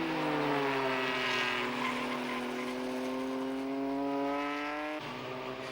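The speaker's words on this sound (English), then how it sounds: "Dion Joubert soon drives his BMW into the hard-fought-for second spot" Group N saloon racing cars, including a BMW, roar past at full throttle on a circuit, with one loud engine note rising steadily in pitch and then dropping abruptly near the end, as on a gear change.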